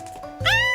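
A single high-pitched cat meow, rising then holding steady, close by, with a short soft sound just before it.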